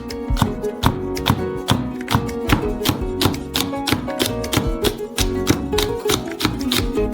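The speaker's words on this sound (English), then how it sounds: "We will also cut chili peppers." A knife chops chili peppers on a board in a steady, fast rhythm of crisp taps, loud and close, over background music with no speech.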